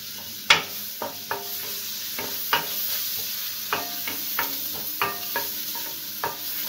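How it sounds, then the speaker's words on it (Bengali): Chopped garlic sizzles in melted butter in a pan for a vegetable soup. A steady close crackle is punctuated by about a dozen sharp spoon taps and scrapes against the pan, with no talk. "মাখনটা গলে গেছে, এবার এর মধ্যে আমি প্রথমে রসুন কুচিটা"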